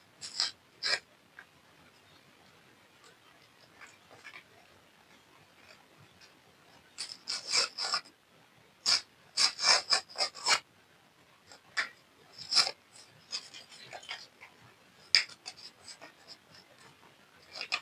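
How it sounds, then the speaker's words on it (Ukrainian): Crinkly rustling and tearing of a small paper packet of stickers being opened nearby, in short irregular bursts with quiet gaps, no talking. "Давайте відкриємо наш пакетик."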